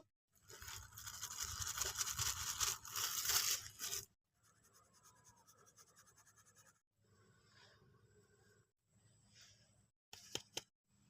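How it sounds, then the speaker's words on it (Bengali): Flour being sifted through a sieve while making nimki, a steady dry scratching and rustling shake that runs loud for about four seconds, then continues in softer bursts with short pauses and a few sharp taps at the end. "ময়দাটাকে আমি চালনিতে ঢেলে নেব"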